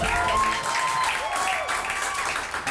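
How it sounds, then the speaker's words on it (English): An audience claps for a stand-up comedian taking the stage, giving a steady, dense round of applause that holds from start to finish. "Okay, start clapping."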